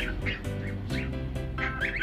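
Ducks quacking in a series of nasal calls, fairly close, with steady background noise and no talking.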